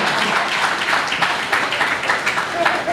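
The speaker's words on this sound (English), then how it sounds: "A round of applause." Audience applause rolls through a hall at a public gathering, a thick, steady clatter of many hands with faint voices mixed underneath, fairly loud and continuous.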